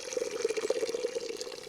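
Water pours steadily from a container for backyard chickens in winter, a continuous close-up splashing and trickling that runs alone without speech.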